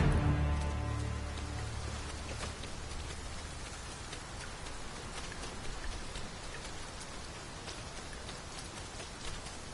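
Steady rainfall in the video game Dragon's Dogma 2, a dense even patter of drops with a low rumble fading early on, constant and enveloping with no voices.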